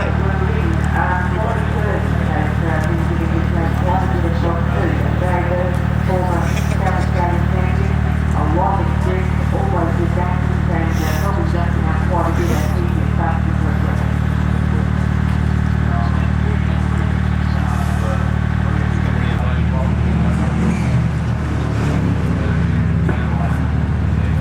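A Subaru-based rally car built on a WRX floor pan and running gear drones steadily at a South Australian rally, with a continuous harsh engine note and shifting revs throughout, while people talk over it.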